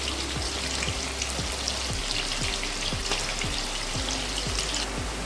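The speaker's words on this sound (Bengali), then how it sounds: "আলু ভাজা হয়ে গেছে, এবার আলুগুলো তুলে নেব।" Potatoes frying in hot oil for a mutton curry, a steady dense crackle and spatter that runs unbroken throughout, close and fairly even, with no talking.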